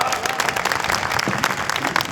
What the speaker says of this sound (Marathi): पण त्यांच्यासाठी एकदा टाळ्या वाजवा